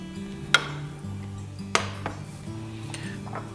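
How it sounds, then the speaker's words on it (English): Bell peppers tipped into a dry pan for an omelette give a few sharp metallic clinks and clatters over a low steady kitchen hum, close and brief. "Just put some peppers in the pan."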